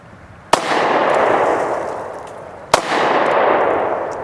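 Two loud, sharp reports from a Double Tap Defense tactical pocket pistol, about two seconds apart, each followed by a long booming echo that fades away.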